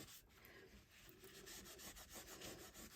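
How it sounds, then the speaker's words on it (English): A tissue rubs ink off embossed paper coated with embossing powder, a faint, close, steady dry rubbing scrape with no talking. "just get a tissue to rub off the ink"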